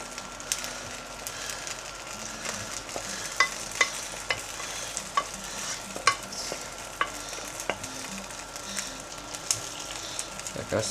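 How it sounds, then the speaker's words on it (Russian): Sizzling sausages in a pan as a white onion cream sauce is poured over them, a low continuous sizzle broken by sharp utensil clicks and taps, fairly quiet and close. "И теперь мы возьмем этот соус и сверху соусом зальем"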